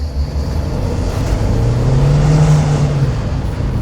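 A Renault Laguna coupé accelerating hard, its engine rising in pitch as it pulls away, heard from inside the car as a loud, steady roar over road rumble.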